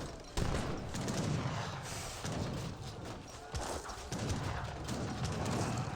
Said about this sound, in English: Does get a volley there.